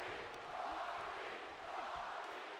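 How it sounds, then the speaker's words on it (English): A stadium crowd in the WWE 2K25 wrestling game chants "Rocky" in a steady, distant roar that holds at a low, even level throughout. "Huge Rocky chants from this crowd"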